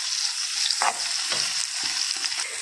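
A spoonful of tomato paste fries in a pan with a steady close sizzle, broken by a few soft scraping stirs, and no talking.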